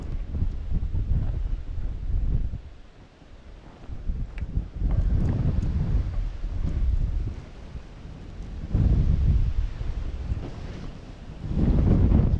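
Gusty wind buffets a small aluminium tinny boat, coming as loud rumbling surges that rise and fall every few seconds, with no voices heard.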